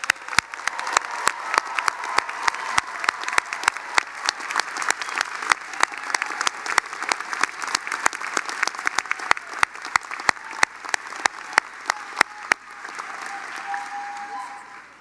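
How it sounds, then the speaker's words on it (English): Sustained applause fills a hall at a pharmacy school commencement ceremony for the graduating class, many hands clapping steadily with sharp individual claps standing out, then thinning toward the end. "Let's give them a big round of applause."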